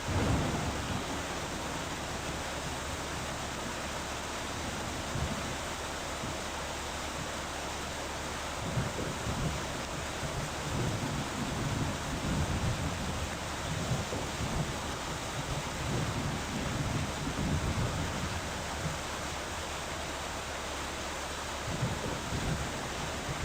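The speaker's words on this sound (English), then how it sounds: "if you listen to the rain when I get inside the truck, there's no difference in the sound" Heavy rain in a video game pours in a constant, dense roar with a low rumbling undertone, unbroken throughout.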